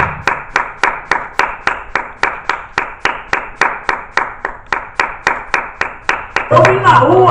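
Church congregation clapping in unison, sharp regular claps at a steady tempo, about three per second and loud, until a voice breaks in near the end.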